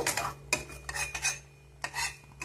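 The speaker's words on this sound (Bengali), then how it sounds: "এগুলোকে সবগুলোকেই একসঙ্গে নেড়ে আমি ভেজে নেব।" Spices are stirred and fried together in a pan, with a spoon clinking and scraping against the metal in a few quick bursts over a low background hum.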